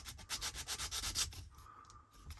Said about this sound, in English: every time we pass over it with the sanding stick, we take a piece off